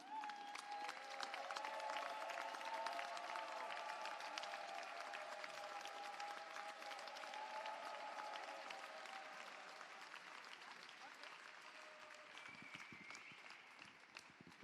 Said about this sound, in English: Again, another big applause for the Freiheitstrychler.